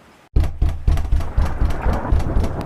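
Cartoon thunderstorm with rolling thunder and steady rain, a sharp crack starting it off and then repeated rumbling bursts over a continuous downpour, loud and close with no voices.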